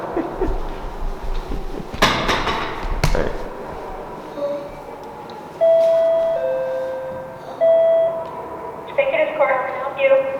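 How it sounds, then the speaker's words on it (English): A courthouse door buzzer gives two steady electronic buzz tones, one longer and one shorter, inside a room with a low background hum and a couple of sharp knocks just before. "you have to hit a buzzer, and then there's a speakerphone that you can talk to the people"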